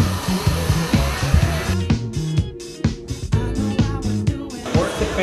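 A hair dryer blows steadily as hair is blow-dried by hand, its airflow loud and close, rising and dipping while fingers work through the hair.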